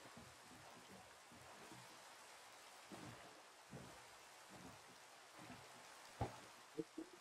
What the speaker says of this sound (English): Oh, it's raining now.